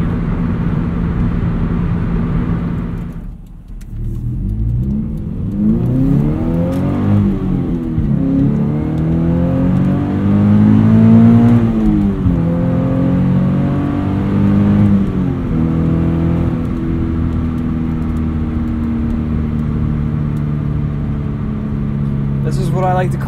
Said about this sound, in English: an exhaust note there, but it's not droning, it's not resonating through the cabin